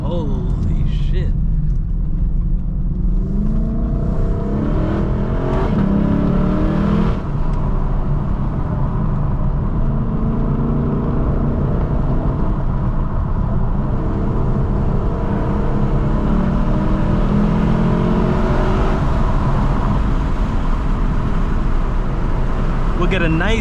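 Lexus LC 500 engine pulling through canyon roads, a steady loud in-cabin drone with rising and falling engine tones, tire and road rumble underneath, and someone talking over it at times.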